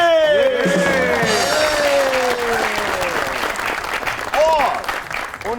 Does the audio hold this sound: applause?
yes